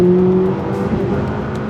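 A McLaren 540C sports car with a 540-horsepower engine, a close loud droning note that eases off after a moment and settles into a steady lower hum, heard alone.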